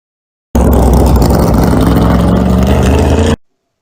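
NASCAR race car engines fire up together for the Daytona 500 in a stop-motion scene, a loud, dense rumbling roar that starts abruptly and cuts off sharply a few seconds later.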